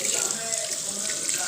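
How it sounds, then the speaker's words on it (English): Tap water runs steadily into a sink while a Whirlpool washing machine inlet filter is rinsed, a continuous close, hissing splash. "now I will wash the filter."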